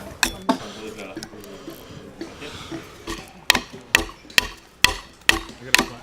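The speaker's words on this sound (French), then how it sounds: "Ça, c'est une herminette. On s'en sert pour travailler sur des entailles." A carpenter's adze chopping timber at a traditional carpentry site in Tibănești: a series of sharp, woody strikes that grows into a steady rhythm of roughly two chops a second, with some voices in the background early on.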